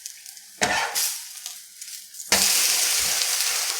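Coconut milk dosa batter sizzling and frying on a hot pan, a steady loud hiss broken by a couple of sharp bursts as the batter is stirred or turned, with no talking.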